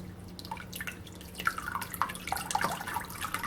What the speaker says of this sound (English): you will see the water splashing up harder and harder as I turn.